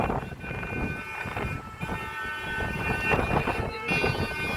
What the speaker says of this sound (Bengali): এই বমবম ব্রিজের ওপর দিয়ে এখন ট্রেন যাচ্ছে